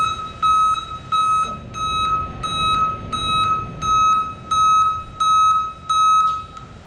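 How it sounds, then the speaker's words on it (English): A Custer self-grounding vehicle backup alarm beeps in a steady repeating pattern, about eight evenly spaced, loud, sharp electronic tones with short gaps between them, heard alone without talk. "Now for the Custer backup alarm. Let's go ahead and hook it up."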